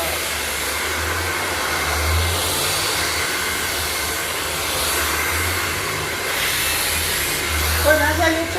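A hair dryer blows steadily at close range for the whole stretch, a continuous airy rush with a low motor hum, with slight changes in pitch as it shifts.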